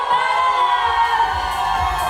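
A wedding sangeet crowd cheers and whoops as the bride's cousins are called up on stage, a dense, loud wash of voices and shouts that carries on without pause.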